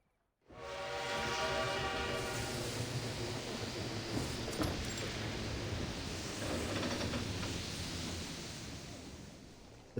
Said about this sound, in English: The train pulls into the station with a long whistle.